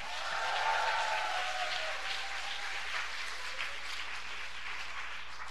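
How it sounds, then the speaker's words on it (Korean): A church congregation claps and cheers, a sustained, even wash of applause with a shout rising near the beginning, heard at moderate distance in a large room with a low background hum. "크게 함성과 함께 박수."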